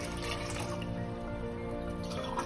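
Water poured into a metal pot to cook rice makes a continuous soft trickle with gentle splashing, fairly quiet and close, under a faint hum.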